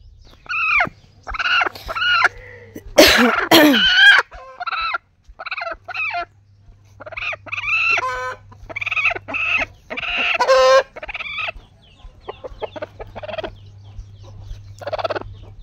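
A hen clucks repeatedly among her newly hatched chicks, with bursts of loud gobbling, cackling fowl calls and a low steady hum underneath, close and lively throughout.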